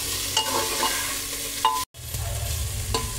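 Crushed ginger and garlic sizzle with cauliflower in a pan, a steady frying hiss broken by spoon scrapes and stirring, with a brief cut in the middle.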